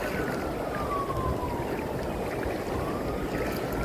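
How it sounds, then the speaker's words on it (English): A faint siren wails far off, its tone slowly falling and rising again over a steady wash of flowing water. "Sirens."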